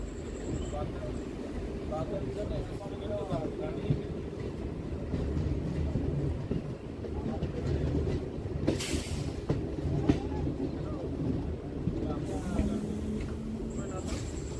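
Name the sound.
Hasnabad local train running on the tracks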